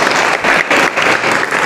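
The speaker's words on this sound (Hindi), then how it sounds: "तालियां तालियां" Schoolchildren at a government inter college clapping together, a loud close burst of applause with slightly uneven pulses, brief and unaccompanied by talk.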